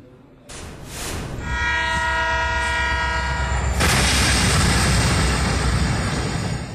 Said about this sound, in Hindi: हॉर्न बजाती ट्रेन आई और ट्रैक पर खड़े लोडिंग वैन को घसीटती हुई साथ ले गई।